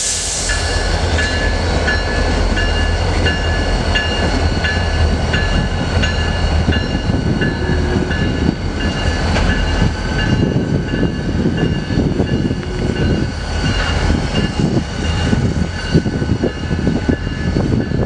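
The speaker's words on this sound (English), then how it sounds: "we'd still have classic Santa Fe Bluebonnets pulling revenue freight over the main line" Santa Fe Bluebonnet diesel locomotives haul a revenue freight train along a main line, a steady loud rumble of engines and rolling cars with sustained tonal whine, continuous throughout and without talk.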